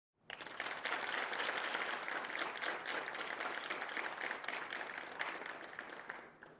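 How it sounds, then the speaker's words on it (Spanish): Thunderous audience applause after a speech at a congregation gathering, a dense, sustained wash of many hands clapping at once, loud and continuous before fading at the end. "Ese aplauso fue atronador"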